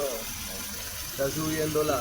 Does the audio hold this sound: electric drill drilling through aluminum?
no